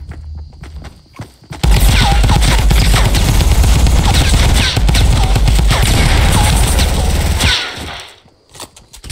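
Gunfire in the video game Fortnite, a loud sustained burst of rapid repeated shots lasting several seconds before stopping abruptly, surrounded by quieter game sounds.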